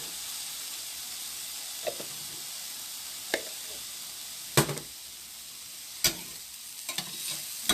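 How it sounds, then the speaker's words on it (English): Garlic sizzles in a pan with a steady, bright frying hiss, broken by several sharp scraping clatters as it is stirred, close and fairly loud. "So you just keep stirring that until so you can smell that good garlic"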